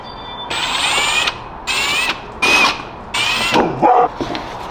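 A tool trims the foam bumper of a Nissan 350Z in five short, close, high-pitched whining bursts separated by brief pauses.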